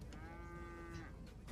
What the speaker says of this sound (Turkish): Vallahi inek geliyor.